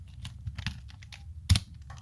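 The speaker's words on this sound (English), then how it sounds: "if I type in something over here" Someone types on a computer keyboard in short, quiet bursts of clicking keys. One louder keystroke or thump stands out near the end.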